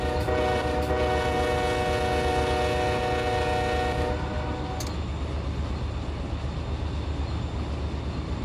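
A train horn sounds at a whistle post in a train simulator game, with long sustained blasts and a short final toot over a steady rumble of rolling rail cars, loud and close.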